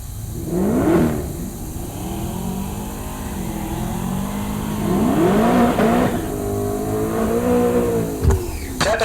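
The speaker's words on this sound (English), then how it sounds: "Dean Teppin, the Chevy 2 in the right lane." A Chevy II drag racing at Heartland Park Topeka, with loud engine revs rising and falling in repeated surges, a steady close roar and a sharp crack near the end.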